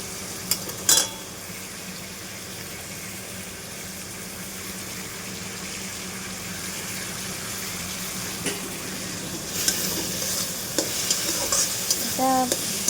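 Chicken fries in a pan for a Bengali-style mustard chicken, a continuous crackling sizzle with occasional clinks and scrapes of stirring, close and steady, no talking.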